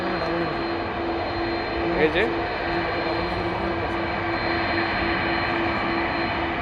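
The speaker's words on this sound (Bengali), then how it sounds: "এই যে গালফ এয়ারটা এখন এই যে সে রানওয়েতে সম্পূর্ণ ইঞ্জিনের শক্তি নিয়ে টেক অফ করার জন্য চলে যাচ্ছে" A Gulf Air airliner at Dhaka airport at night, taking off on the runway at full engine power, gives a steady, even engine roar throughout, with a person speaking briefly over it.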